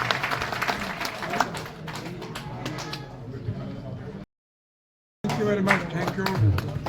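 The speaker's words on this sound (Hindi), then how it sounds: "तालियों से स्वागतम" Applause from the gathering at a retired police association New Year event welcomes a member, hand claps mixed with chatter and voices, cut by a short silent gap before talking and crowd noise resume.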